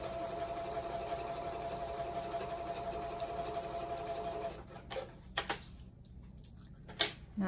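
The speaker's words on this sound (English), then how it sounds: "I probably won't be doing much talking while I'm at the sewing machine because that will affect the volume" A sewing machine runs steadily while quilting half-square triangles, a fast, even mechanical whir, then stops and leaves only a few sharp clicks and light handling knocks at close range.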